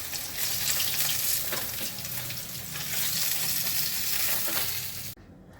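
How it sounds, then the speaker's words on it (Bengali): Black cumin seeds tempering in hot mustard oil give a loud, close, crackling sizzle with stirring for about five seconds, then the sound cuts off abruptly. "কালো জিরে ফোড়ন করছি।"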